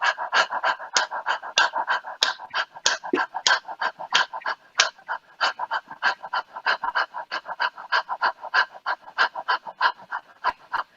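A group of people imitate an excited dog's panting in a singing breathing exercise, giving quick, rhythmic breathy huffs in a long, steady series, close and fairly loud.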